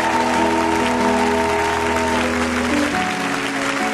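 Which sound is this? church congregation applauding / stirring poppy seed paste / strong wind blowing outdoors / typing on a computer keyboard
church congregation applauding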